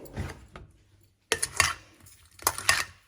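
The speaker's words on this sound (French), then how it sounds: "je vais remuer ça afin de bien mélanger" A spoon stirring a strawberry mixture with sugar and lemon juice in a bowl: three close bursts of clinking and scraping against the bowl, separated by short pauses.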